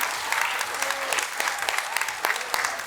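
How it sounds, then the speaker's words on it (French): An audience applauds after an improvised theatre performance at an improv festival. The clapping is dense and lively, with sharper individual claps standing out, and a voice can be heard faintly over it. "Un grand tonnerre d'applaudissements à nos magnifiques régies qui étaient derrière."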